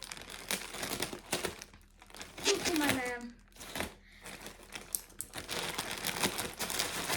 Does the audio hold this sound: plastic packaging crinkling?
yes